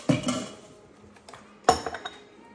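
A spoon or utensil clinks against a glass jar while sourdough starter is stirred with 40 grams of water, a few quick scraping taps at the start and a second burst of clinks later, close and fairly quiet.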